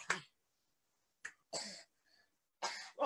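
A series of harsh, close coughs and throat-clearing bursts, four or five spaced irregularly across a few seconds, with quiet gaps between them and no talking.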